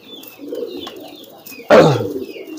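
Soft, low pigeon coos murmur close by, then a sudden loud burst of sound breaks in near the end before the cooing continues.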